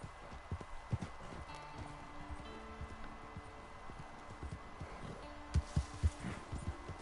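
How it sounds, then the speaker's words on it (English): Horse hooves clip-clop through Red Dead Online, an irregular run of close, distinct strikes that bunch into quick clusters near the end, with no one talking over them. "The horse is batshit crazy"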